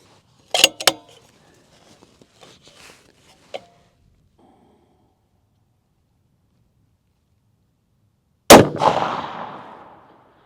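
A scoped rifle fires a single loud, sharp shot at a distant target, trailing off in a long rumbling echo, after some quiet handling clicks earlier on.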